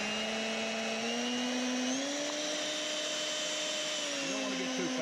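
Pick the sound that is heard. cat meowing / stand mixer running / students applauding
stand mixer running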